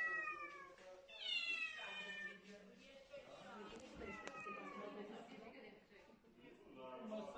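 Several cats meow in the ceiling of the Constanța Emergency Hospital, their rising and falling cries overlapping and sounding close, with people's voices mixed in around them.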